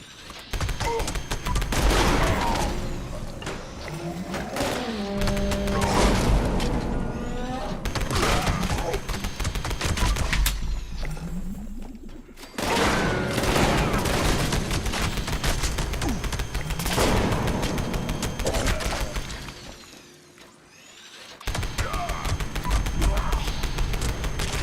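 Dense, sustained gunfire during a raid in a Fallout 76 style shooter at West Tek, with rapid volleys filling most of the stretch, brief lulls near the middle and end, and occasional speech underneath.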